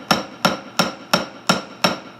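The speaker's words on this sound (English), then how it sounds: "we want to move the hammer straight up and down, causing the face of the hammer to always stay parallel with your anvil" A jewelry hammer strikes a metal piece on an anvil six times in a steady, evenly spaced rhythm. Each blow is close, sharp and ringing, with no voices.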